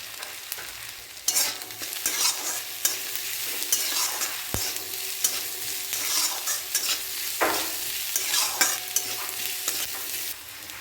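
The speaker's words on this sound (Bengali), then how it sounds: "পেঁয়াজগুলোকে ভালো করে ভাজবো, একদম বাদামি রঙের" Onions hiss and sizzle in hot oil while a utensil stirs and scrapes the pan in repeated strokes, close and fairly loud.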